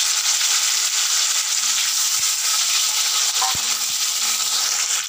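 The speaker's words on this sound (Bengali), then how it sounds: "প্রথমে আমি আলুগুলোকে দিয়ে দেবো, দিয়ে ভেজে নেবো।" Potatoes frying in hot oil in a wok over a gas flame, a steady bright sizzle throughout with a few small clinks and stirring knocks near the middle.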